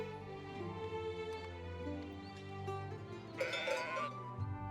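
Sheep bleat in the trading and town-building video game Let Them Trade, a wavering animal cry over a soft tonal game background, with a brighter burst of sound near the end; no one speaks.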